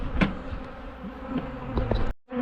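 Agitated honey bees buzz around an open hive on a beekeeping visit, a close, steady droning hum with a few sharper passes near the microphone before it cuts off abruptly.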